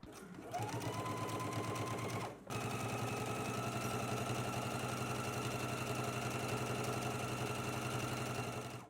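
A sewing machine runs a 5/8-inch seam allowance along a sleeve seam for a McCall's M8601 garment, giving a steady, close, continuous mechanical whir that briefly stops once before resuming.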